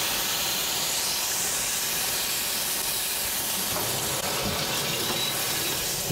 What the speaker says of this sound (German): Lösche hier etwas ab.